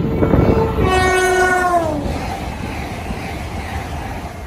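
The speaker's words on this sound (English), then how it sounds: "thank you very much to the driver for that two-tone" A Great Western Railway service from London Paddington to Worcester Foregate Street passes through Goring & Streatley station, sounding a loud, close two-tone horn for about a second over the steady roar and rumble of the train.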